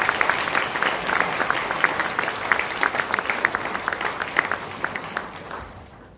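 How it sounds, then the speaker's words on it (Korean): Congregation applause at a Korean Presbyterian church ordination and retirement service for elders and deacons, a dense, sustained clapping from many hands that holds steady for several seconds, then gradually thins and fades. "박수 부탁드립니다"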